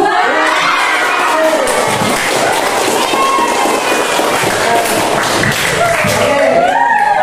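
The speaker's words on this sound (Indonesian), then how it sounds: "Beri tepuk tangan dong." A loud classroom of children cheering and shouting, with scattered clapping mixed into the continuous noisy din.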